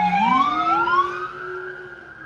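A police car siren passes through a residential neighborhood, loud and close, its wail sweeping up and down and then holding a steadier rising tone as it moves off, with no talk over it.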